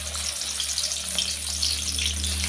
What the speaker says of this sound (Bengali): নুন হলুদ মেখে মাছটাকে আগে ভেজে নিচ্ছি